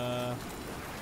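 Rain in the video game Death Stranding, a soft, steady hiss of falling rain that takes over after a brief tonal sound fades, faint and continuous.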